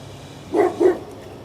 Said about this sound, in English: One dog's barking at me